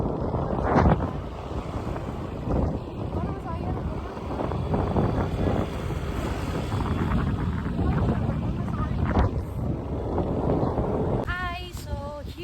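Wind rumbles steadily across the microphone at a resort while voices talk throughout, with brief higher vocal sounds near the end.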